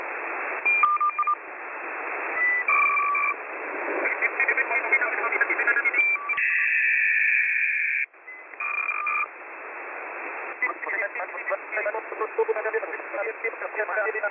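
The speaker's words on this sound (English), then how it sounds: "Analog voice encryption." Analog voice encryption effect from a VST plugin: speech scrambled into a narrow, band-limited, chirpy, data-like garble with tonal beeps and a brief sustained tone, continuous and close.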